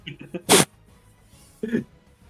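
A single sharp, loud sneeze bursts out, followed a moment later by a shorter, softer sneeze-like huff, with brief vocal sounds just before.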